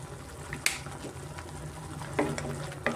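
Masala with turmeric frying in a pan for a chicken fry side dish, giving a steady low sizzle and bubbling with a few sharp crackles and pops. It runs alone and fairly quiet throughout.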